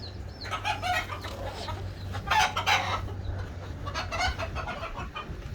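A flock of about a hundred chickens clucks nearby, with a rooster crowing loudly through the middle, the calls rising and falling in overlapping bursts.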